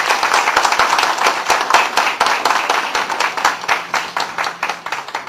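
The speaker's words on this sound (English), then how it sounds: "I think he deserves a big clap." An audience at a university lecture event claps for the Chief Proctor, giving dense, steady applause that thins and tapers toward the end.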